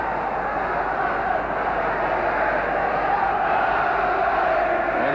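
A big football crowd at the City Ground, Nottingham, during Nottingham Forest against Liverpool, a steady loud roar and murmur of many spectators filling the whole stretch without a break.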